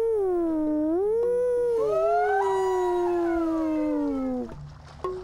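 A voice imitates humpback whale song with long, sliding, howl-like moans that rise and fall over several seconds, loud and close, ending in a brief softer sound.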